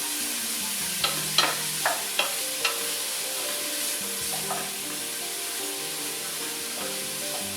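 One big onion and a couple of carrots soften in a pot of veggie soup, giving a soft, steady sizzle punctuated by several sharp clinks and scrapes of stirring early on, with no talk.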